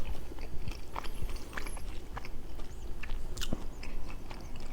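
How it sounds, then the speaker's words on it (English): Close crunchy bites into a dense, chewy Got2Go pizza crust, followed by steady wet chewing with small crackles throughout. "This one is a lot more chewy. There's a lot more to bite into."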